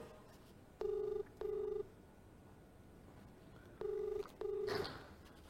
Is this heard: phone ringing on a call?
yes